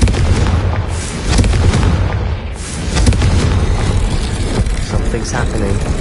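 A Confringo fire spell in the video game Hogwarts Legacy sets off loud, dense booming blasts. The crackling explosions run without a break, with a voice talking over them.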